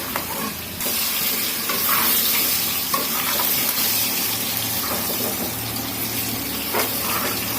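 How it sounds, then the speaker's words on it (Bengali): Food fries in a pan over raised heat until browned, a steady, close sizzle with occasional stirring scrapes and clinks, continuous throughout with no voice. "এখন আমি এটা চুলাটা বাড়িয়ে দিয়ে লাল লাল করে ভেজে তাড়াতাড়ি উঠিয়ে ফেলবো"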